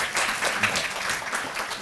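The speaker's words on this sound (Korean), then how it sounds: "박수 부탁드립니다" A seminar audience at an Oceania job fair gives brief, lively applause, dense rapid clapping filling the room for a couple of seconds.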